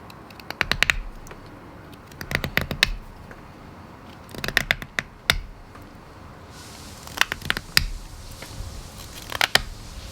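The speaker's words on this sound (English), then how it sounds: "just going to take the Mora knife and we're going to cut off the end at about a 45-degree angle." Mora knife cutting the end of a willow stick at a 45-degree angle outdoors, sharp clustered snaps and crisp cuts repeating in short bursts, close up.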